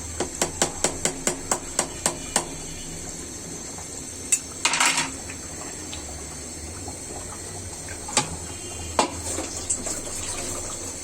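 Lid going onto a pot of beef and raw jackfruit curry in a home kitchen, with a run of sharp metallic clinks and taps, a clattering burst, and a few later knocks.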